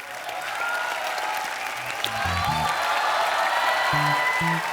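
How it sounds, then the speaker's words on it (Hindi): The studio audience of a TV comedy show applauds in a steady, even wash of clapping that runs throughout, with brief music and voices under it. "तो जोरदार तालियां।"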